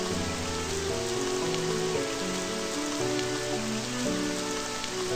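Steady rain hiss in the video game Amayado Bus Stop, a constant wash of falling drops beneath layered soft musical tones, even and unbroken throughout.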